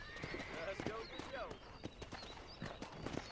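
A horse in the Western video game Red Dead Redemption gallops with steady hoofbeats while a whinny rises over them, and someone talks through much of it.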